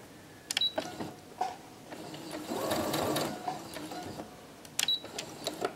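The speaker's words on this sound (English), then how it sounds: "I'm just going to use my straight stitch again to secure those threads" A sewing machine runs a straight stitch to lock threads on a dollhouse quilt block. A short steady whir of stitching sits between scattered clicks and taps, close and clear, with no talking.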